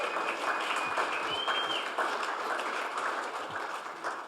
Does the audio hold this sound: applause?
yes